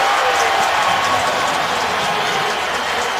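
A stadium crowd at an NFL football game between the Oakland Raiders and Baltimore Ravens cheers in a loud, sustained roar with no voices standing out.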